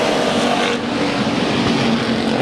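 Hobby Stock race cars roar together at the green flag on the Bakersfield Speedway oval, a loud, steady engine drone with no clear single pass.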